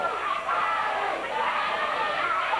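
A wrestling arena crowd at a 1989 Memphis championship match roaring in a steady wash, with a commentator talking over the noise.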